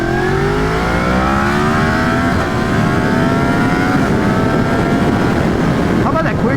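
A Yamaha FZ-10 motorcycle accelerates hard, its engine pitch climbing and dropping sharply through quick-shifter upshifts, loud and close over heavy wind noise.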